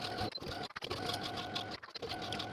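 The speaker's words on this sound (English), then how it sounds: "edge stitch your entire hem close to the inner fold" A sewing machine edge stitching a blouse hem, running in a fast steady whir with brief pauses and stops between bursts, close and alone.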